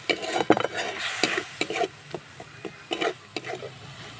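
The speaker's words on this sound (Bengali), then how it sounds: "পেঁয়াজটা আমি 5 মিনিট মতো ভেজে নেব।" Paste of three ground onions fries in a pan without oil for a chicken kosha, with a soft sizzle under repeated scraping and stirring strokes of a spoon against the pan, close and alone.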